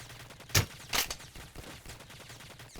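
Two sharp gunshots ring out in the video game Otxo, the first at about half a second and the second near one second, each a loud broadband crack over a low, steady game soundtrack with faint thuds between.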